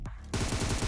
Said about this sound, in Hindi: मेरे को फायरिंग साउंड आया था